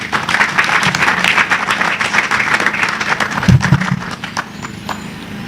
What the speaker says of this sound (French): Nous allons applaudir encore très fortement le professeur